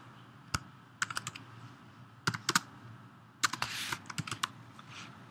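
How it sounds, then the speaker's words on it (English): Someone types a name on a computer keyboard, clusters of crisp key clicks in short quick bursts separated by pauses, close and fairly quiet, with no speech. "So I'm going to type"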